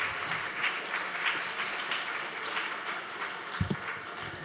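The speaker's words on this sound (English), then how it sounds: "please, a round of applause" Steady audience applause in a hall greeting a speaker, an even, moderately loud wash of clapping that carries through with a couple of sharper knocks near the end.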